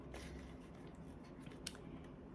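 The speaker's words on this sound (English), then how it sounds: "Peel off that backing" Backing paper peeled off a sticker from a Panda Friends craft kit, a faint, quiet rasp with a brief sharper crackle near the end and no talk.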